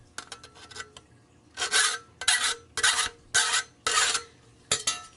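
About six rasping file strokes scrape burrs from a metal edge during a Berkey-style water filter build, each stroke a short, harsh burst with brief gaps between them.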